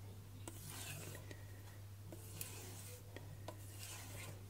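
A VG10 steel knife drawn lightly across a 3000 grit whetstone to remove the burr makes soft, quiet raspy strokes in irregular short passes, with sharp faint ticks between them over a low steady hum.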